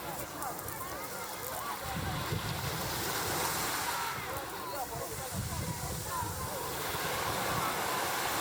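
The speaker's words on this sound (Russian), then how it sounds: "Особую радость доставляют волны возле берега, в которых очень приятно плескаться." Sea waves wash in near the shore of a beach at Hotel Caretta Beach in Turkey, a close, continuous rolling surf with gentle swells and some wind buffeting the microphone.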